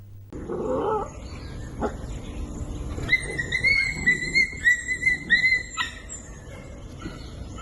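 Dogs bark and yip in a short rapid series, with some whining and growling, fairly close and loud over a quiet outdoor background.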